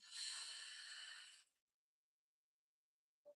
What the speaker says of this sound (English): I'm just clenching the throat muscles there, creating the effect of Ujjayi breath, which is also known as victory breath or ocean breath